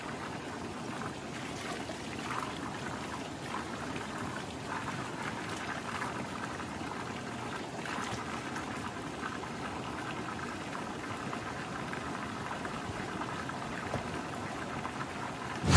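Water trickles and bubbles continuously from a mountain spring in Pakistan at an even, moderate level, a steady outdoor burble with no voices.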